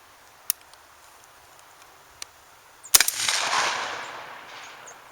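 A 12 gauge shotgun fires a home self-defense load in one sharp, loud blast followed by a trailing outdoor rumble, with a few faint ticks just before it.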